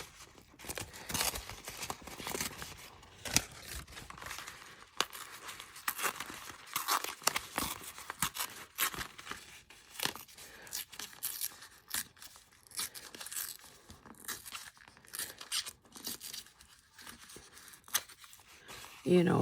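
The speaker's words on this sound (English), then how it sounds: "I could tear it in between." Washi paper is torn by hand in a series of soft, close ripping and crinkling bursts, irregular and fairly quiet, with a person talking over parts of it.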